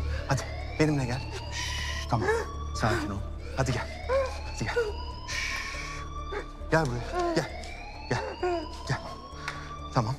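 A continuous electronic alarm tone sweeps upward again and again while people talk nearby in calm, low voices.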